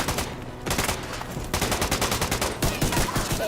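Rapid gunshots in a video game, dense bursts of automatic fire crackling continuously and loudly throughout with brief gaps between volleys.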